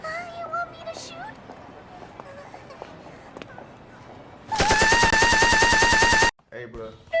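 Rapid burst of airsoft gunfire lasting close to two seconds, loud and evenly paced, standing out after a stretch of quieter background noise and brief voices.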